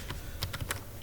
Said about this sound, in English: I am typing here or pasting here the name queue test.